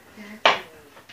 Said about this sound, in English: Then we're gonna chop them up.